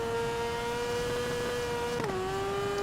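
A racing sidecar's engine drones steadily on throttle in the TT Isle of Man racing game, holding a buzzing whine with one quick pitch dip around the two-second mark, with no voices over it.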